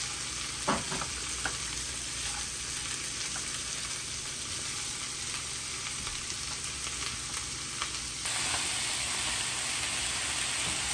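Long beans sizzle continuously as they fry in an uncovered pan for a coconut bean dish, a close, even hiss with faint utensil taps. The frying grows slightly louder toward the end.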